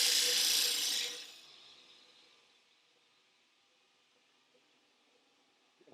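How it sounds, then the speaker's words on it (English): A big belt sander grinds a soft trim piece on a 1968 Volkswagen Beetle with a loud, close rasp for about a second. The sound then fades into a quiet machine hum with a few faint knocks. "This stuff is so soft, I'll just put it on the big belt sander here."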